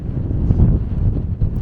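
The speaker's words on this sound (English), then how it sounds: "it's been very, very windy in this area as well" Strong wind buffets the microphone on a desert hiking trail on the way to the Goat Canyon Trestle Bridge, a steady low rumbling roar with gusty swells and no voices.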